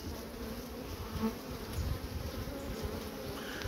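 Honeybees buzzing around a hive: a steady, fairly quiet drone with individual bees passing close now and then and no talking.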